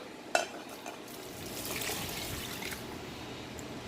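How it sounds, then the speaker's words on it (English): Water is stirred into a pot of pork seasoned with garlic salt, a soft wet swishing and trickling at low volume after a single sharp clink at the start. "give it one more little stir and just make sure it's all together"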